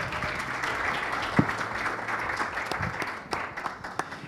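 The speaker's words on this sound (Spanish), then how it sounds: "Fuerte aplauso." An audience at a panel event applauds a speaker, a steady patter of many hands clapping at moderate volume with a few sharper individual claps, no speech over it.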